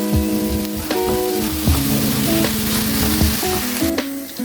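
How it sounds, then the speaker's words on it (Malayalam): Flattened rice with coconut, jaggery, cardamom and sugar sizzles in a pan while a spoon stirs and scrapes it with repeated knocks against the metal, loud and close. "നമ്മളിതിൻ്റെ വെള്ളം ഒന്ന് പറ്റി വരുന്നവരെ നമുക്ക് ഇളക്കി കൊടുക്കാം."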